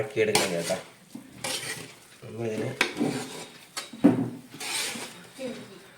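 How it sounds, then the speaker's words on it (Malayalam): Rice being mixed in a pot for Onam dum biryani, heard as repeated scraping and clanking of a spoon against the pot in bursts, with a voice speaking in between. "റൈസ് മിക്സ് ചെയ്യണം"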